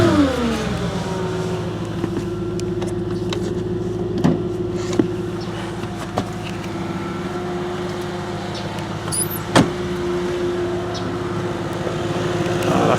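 An Audi S4 Avant with a 4.2 V8 and dual exhaust holds a steady low idle-like rumble, close and even, with faint clicks and small bumps in level over it and no clear revving surge.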